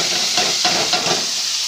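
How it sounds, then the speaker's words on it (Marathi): Onions tossed into a hot pan for shev bhaji crackle and sizzle loudly up close, with a few stirring scrapes breaking through the continuous frying hiss. "कांदे टाकून द्यायचे."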